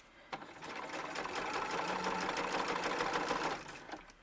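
A sewing machine stitches a bustier of black fabric for a ball-jointed doll, running in one steady, close burst of rapid needle clatter for about three seconds, with no talking.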